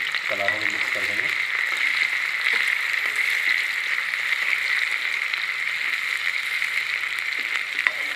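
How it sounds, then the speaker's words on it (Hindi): Green chili and onion sizzle in hot oil with cumin for drumstick-flower sabzi, a steady close hiss with a few soft stirring scrapes near the start. "अपन हरी मिर्च और प्याज जो है वो डाल देंगे, और इसको हल्के हल्के कलारों में मिक्स कर देंगे"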